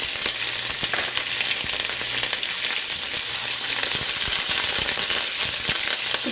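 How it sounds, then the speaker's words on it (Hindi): Onions frying in half a cup of oil for a chickpea pulao, giving a loud, steady, close crackling sizzle that runs without a break. "सबसे पहले आधा कप ऑयल में प्याज डालें"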